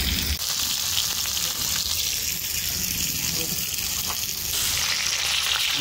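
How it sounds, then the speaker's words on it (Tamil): Vanjiram (seer fish) pieces frying in a pan for a Sunday special dish, giving a steady broadband sizzle and crackle that runs continuously and fairly loud throughout, with no talking. "ஞாயிற்றுக்கிழமை ஸ்பெஷல் வஞ்சர மீன் வறுவல் ரெடி ஆயிடுச்சுண்ணா"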